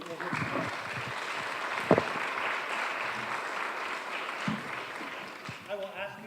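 Audience applause at a Bexar County District Attorney candidate forum: a sustained wash of clapping that holds steady throughout, with a few louder claps and a voice emerging near the end.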